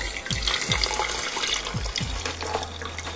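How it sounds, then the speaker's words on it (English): Water is poured steadily over green tea leaves in a cup, a loud, close splashing stream with a few low gurgles and no voices. "Add water to your tea."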